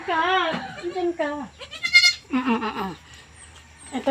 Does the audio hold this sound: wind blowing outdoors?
no